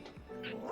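A Minecraft dog gives a brief, soft bark-like yip in a short game clip, faint and partly under other sound.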